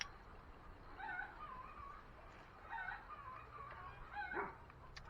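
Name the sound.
dogs whimpering and yipping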